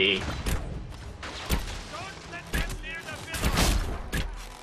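Rogue archer's bow loosing arrows during a fight in Dragon Age: Inquisition, several sharp separate releases and impacts spread irregularly over battle noise, with a player talking at times.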